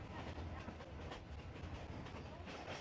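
A local train runs through the Myanmar countryside, with steady rumbling and rhythmic clickety-clack of wheels on rails, quiet and continuous.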